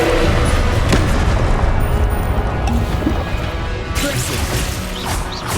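Booming and crashing spell effects from the Expelliarmus disarming spell in the video game Hogwarts Legacy, loud and sustained for several seconds, with a fresh sharp hit partway through and no talk.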